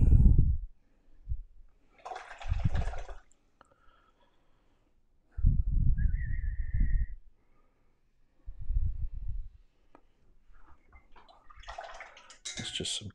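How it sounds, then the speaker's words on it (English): Clean water splashed and dabbed during watercolour painting, heard as a few short wet splashy bursts spread between pauses, with a person speaking quietly in between. "It's just some clean water."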